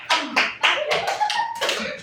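Fifth-grade schoolchildren clapping in a counted classroom rhythm game, several group claps in a steady beat with a voice partly over them, fairly close.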